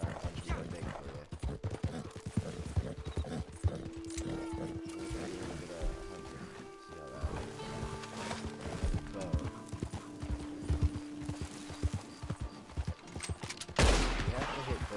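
Horse hooves clip-clopping at a steady gallop in Red Dead Redemption Online, loud and close throughout, mixed with in-game gunfire bursts, a whinny, and tonal game sounds, with a sharp noisy burst near the end.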